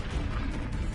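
Confringo and Levioso spells are cast in quick succession in Hogwarts Legacy, giving a brief, heavy low rumble with soft thudding pops.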